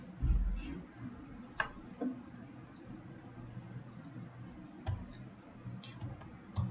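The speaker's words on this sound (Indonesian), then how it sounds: "Kita ketikkan" Router configuration commands being typed on a computer keyboard, setting the hostname to R11: sparse, light key clicks at an uneven pace, fairly faint over a low, steady background hum.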